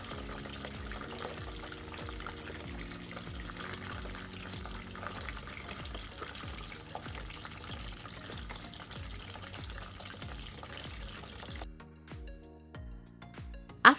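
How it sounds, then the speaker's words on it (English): Plantains frying lightly in a pan, a steady soft sizzle running continuously before a brief quieter stretch with a sharp knock at the end. "And fry them lightly on both sides for 2 to 3 minutes."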